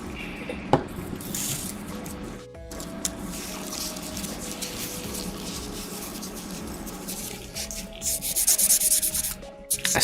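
Steady abrasive rubbing of sandpaper on plastic Gunpla model parts, a continuous close scratchy texture lasting throughout, briefly pausing once and growing harsher and louder near the end, with no talking.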